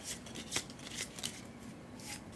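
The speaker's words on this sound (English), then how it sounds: "we'll go ahead and shuffle" A deck of numbered board-game cards for Scholars of the South Tigris is shuffled close up, giving quiet, irregular riffling bursts and soft slaps.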